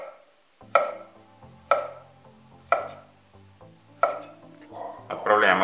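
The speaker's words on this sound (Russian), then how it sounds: "Также нарезаем их соломкой." A knife cuts pickled cucumbers into thin strips on a board, giving about five sharp, evenly spaced chops close up, with faint kitchen clatter at the end.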